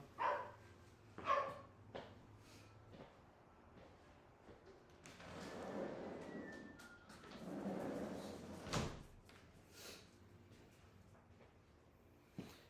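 A hungry dog restlessly moving in and out through a door, with faint clicks and thumps early on, then a longer stretch of low shuffling and rustling movement at a moderate distance, with no speech.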